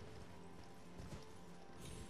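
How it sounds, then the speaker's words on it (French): Horse hooves clip-clopping while riding across terrain in Elden Ring, a quick, steady galloping rhythm that stays faint and soft throughout. "Donc c'est pour ça qu'on prend le cheval."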